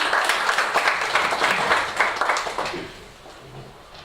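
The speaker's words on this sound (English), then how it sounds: "Can you give her a round of applause as she comes up?" A small audience at an academic workshop claps for a few seconds as a speaker comes up, the applause fading off toward the end.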